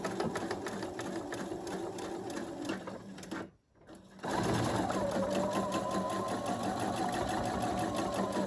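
A sewing machine stitching straight down a piece of fabric, a loud continuous rattling hum up close that cuts out for a split second, then resumes even stronger.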